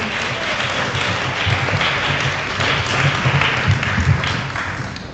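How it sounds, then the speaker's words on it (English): An audience at an annual inter-primary school quiz event gives a sustained round of applause, a dense, steady roar of many hands clapping that continues at an even level throughout. "A round of applause for the participants again for doing a great job."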